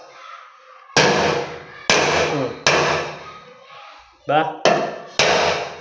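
Sprung lift-up door hinges are hammered into place with six sharp, loud, close blows at roughly one-second intervals, each ringing out briefly, with a short spoken word between strikes.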